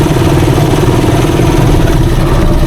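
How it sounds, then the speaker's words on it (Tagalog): A Rusi Chariot 175 motor trike engine runs at a steady, even idle, a continuous close-up mechanical drone with a faint rattle. "hindi po maingay yung makina niya. Napakatining pa rin po."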